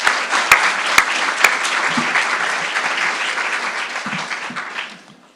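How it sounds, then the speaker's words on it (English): Audience at a university convocation ceremony breaks into loud, sustained applause that holds steady, then thins out and fades away toward the end. "Let's give them all a round of applause."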